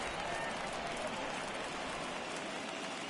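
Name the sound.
stadium crowd cheering at Dodger Stadium in a baseball video game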